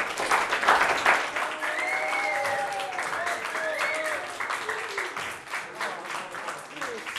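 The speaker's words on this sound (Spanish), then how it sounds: "vamos a recibir con un fuerte aplauso a Héctor." A theatre audience applauds warmly and steadily, with cheers and whoops rising over the clapping.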